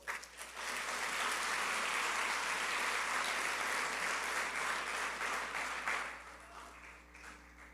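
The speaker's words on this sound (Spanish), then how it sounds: "¿Me puede acompañar con un aplauso al Señor?" A church congregation applauds at a Sunday service, a dense, sustained wash of clapping that swells quickly, holds steady for about six seconds, then fades out.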